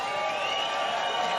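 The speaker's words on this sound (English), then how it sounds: "Give yourselves a round of applause" A large outdoor crowd at the Gold Coast surf contest finals awards claps and cheers in a steady, dense wash of applause that holds evenly throughout.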